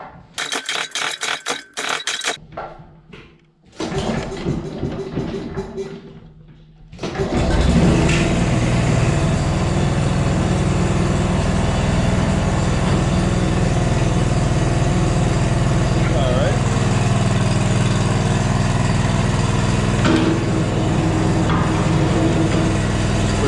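A log splitter's small engine sputters through a few uneven attempts, then catches after being choked and settles into a loud, steady close-up running drone that continues unbroken to the end.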